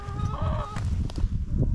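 Young chickens cluck in a yard, with a few short high calls early on over soft, low scratching and shuffling nearby.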